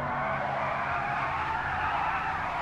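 Rear tires of an Audi Q5 spin and skid at a standing start in GTA, a steady loud screeching hiss with engine drone underneath, continuous and close throughout.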